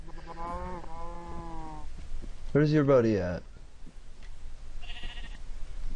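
A blocky sheep in the Minecraft video game lets out one loud, wavering bleat partway through, alongside fainter animal calls, while someone talks casually nearby.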